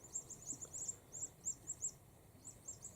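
A few birds chirp in short, scattered high calls at a distance, faint against a quiet outdoor background at a coastal campsite at Sleaford Bay on a cool afternoon.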